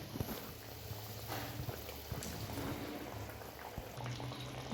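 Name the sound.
fish curry gravy boiling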